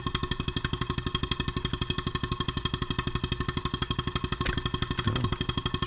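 A Stuart 7A steam engine, freshly refurbished and mounted, runs at a quickened pace, giving off a steady rapid mechanical clatter with even, fast beats throughout, close and moderately loud.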